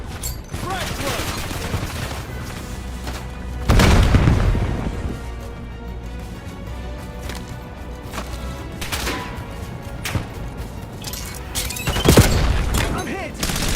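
A frag grenade goes off in a combat video game, one of several loud booms amid continuous rattling gunfire and distant explosions, with two heavier blasts standing out over the chaotic battle din.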